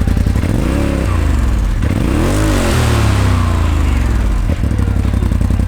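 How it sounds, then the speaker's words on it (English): A Cadillac Escalade engine with a DDG43 exhaust revs up and down several times, the exhaust flap closed, giving a deep, throaty rumble that rises and falls close by. "this is what it sounds like with the exhaust flap closed."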